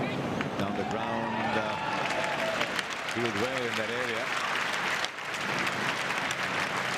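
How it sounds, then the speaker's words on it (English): Cricket crowd at a Test match between Australia and India applauds and cheers for a fielder, steady distant clapping and murmur running throughout beneath a commentator's voice. "Got a bit of a cheer, does Michael Clarke."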